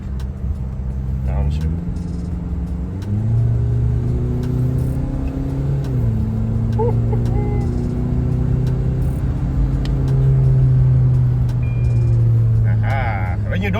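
LDV Max Pro bakkie engine in power mode, a steady loud drone that drops and then climbs in pitch as it downshifts, with a clear rev change, while someone talks over it.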